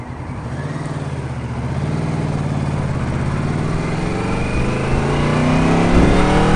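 A 1300 Yamaha Royal Star Venture trike accelerates, its engine rising in a smooth, climbing drone that grows steadily louder and higher in pitch over several seconds, heard close and alone.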